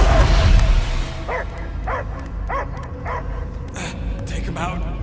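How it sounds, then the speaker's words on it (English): A dog in the Guardians of the Galaxy video game barks and whimpers in a short series of yelps over rumbling game sound and voices. "I hear only barking"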